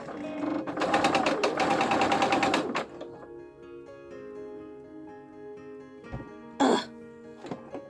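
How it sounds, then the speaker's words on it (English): A sewing machine stitching a quarter-inch seam on a patriotic quilt block, a fast loud whirring run of needle strokes for a couple of seconds, then quieter handling and a short burst near the end. "We sew a 1/4 inch seam."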